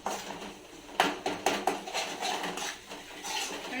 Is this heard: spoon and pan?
yes